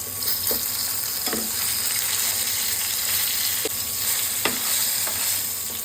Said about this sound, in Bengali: দুই পাশ সুন্দর মতো সমান সমানভাবে ভাজা হয়েছে।